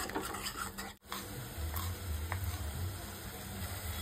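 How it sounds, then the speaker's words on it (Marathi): Curry masala for Marathwada-style chicken curry fries in oil with a steady, close sizzle, broken by a quick stir and some scraping in the pan. "याला आपण चांगलं तेल सुटेपर्यंत भाजून घ्यायचं"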